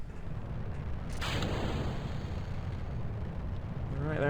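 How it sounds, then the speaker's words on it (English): A video game rocket lifts off carrying a satellite: a steady, dense roaring rumble that swells sharply about a second in and holds loud and constant to the end. "Let's go ahead and send off this rocket."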